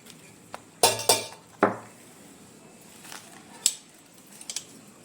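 A spoon mixes cauliflower pickle with lemon juice in a bowl. A few sharp metallic clinks and scrapes ring out up close, then sparser taps against a quiet background.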